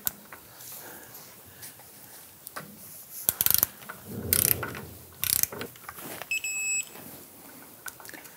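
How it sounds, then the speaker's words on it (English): Torque wrench tightening the front lower control arm bolt on a 1997–2006 Jeep Wrangler, a few quiet ratcheting clicks in short bursts with a faint beep near the end, close up in a quiet workshop. "We're gonna torque the front bolt to"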